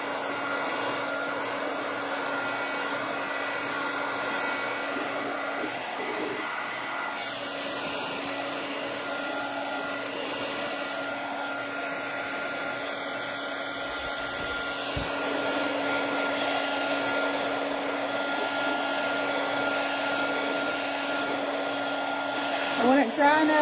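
A hair dryer blows steadily for over twenty seconds to dry fresh paint, giving a constant whirring drone close by that grows slightly louder partway through, with no speech.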